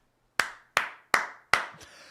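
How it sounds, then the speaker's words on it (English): A slow clap: four sharp, close hand claps, evenly spaced and unhurried, each ringing out briefly before the next. "Slow clap for Sabatini"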